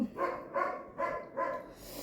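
A dog barks four times in a steady, evenly spaced rhythm, close and clear with no talking, while being given rice at a home kitchen.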